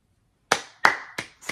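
Hands clap four times in a slow, uneven rhythm, each sharp smack close and loud with a brief ringing decay, as part of a podcast meetup gathering; no voices are heard.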